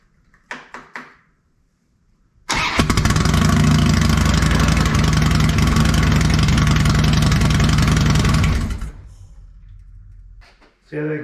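A Harley-Davidson Dyna motorcycle with a newly installed Sawicki Speed aftermarket exhaust fires up and idles loudly for several seconds with a deep, throaty exhaust rumble, then cuts off; brief talk before and after.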